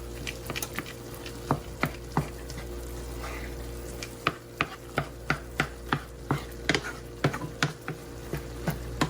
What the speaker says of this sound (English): I'm going to just chop that down